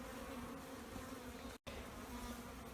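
A dense, steady hum of honeybees buzzing over hive frames fills the air, continuous and close, with one very brief dropout partway through.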